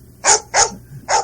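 A man imitates a dog with three short, loud barking yelps in quick succession, close and alone.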